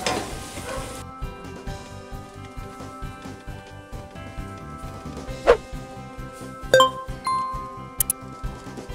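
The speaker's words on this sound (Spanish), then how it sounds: "Le tallamos hasta el fondo para que con la humedad del jitomate se desprenda todos los restos de tocino" A spoon scrapes the bottom of a pan where tomato sizzles with bacon bits, making rhythmic repeated scraping strokes over a steady frying hiss. A few sharp metallic clinks are heard, with no talk.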